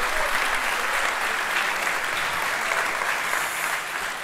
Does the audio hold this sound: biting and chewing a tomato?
no